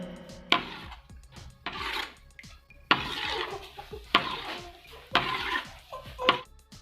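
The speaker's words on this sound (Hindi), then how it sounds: "जिस तरह मैं इसको मिक्स कर रही हूँ, अच्छे से इसको मिक्स करना है आप लोगों ने।" Khushabi dhoda sweet mixture mixed by hand in a pan, a series of scraping, rubbing strokes against metal with short pauses between them, close and fairly clear with no talk.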